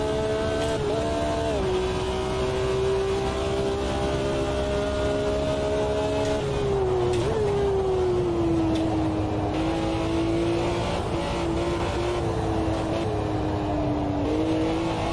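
A car engine holds a steady drone during laps at normal speed on a track, its pitch easing and rising gently with small throttle blips, continuous and close with no talking.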